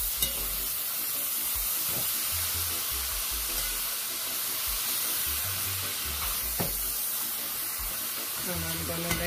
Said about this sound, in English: Now I'm gonna add my eggplant to my pot and some black pepper. I'm gonna mix this in.